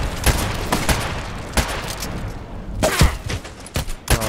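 Rapid bursts of gunfire from the online shooter game Contract Wars, several sharp reports spaced irregularly over a few seconds, fairly loud and close with ringing tails and no talk.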